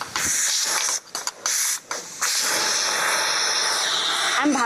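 Steam hisses loudly and continuously from a pressure cooker, a close, harsh rushing spray that briefly cuts out a few times before resuming steadily.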